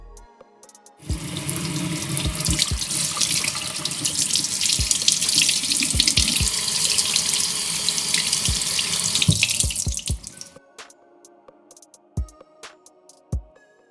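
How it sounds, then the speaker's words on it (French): Tap water pours steadily over a Newtonian telescope mirror being rinsed at a sink, a loud continuous splashing rush lasting about nine seconds with scattered knocks, then stopping abruptly and leaving a few faint drips and taps. "on va venir une dernière fois rincer tout ça à l'eau déminéralisée pour éviter de laisser par exemple des dépôts de calcaire"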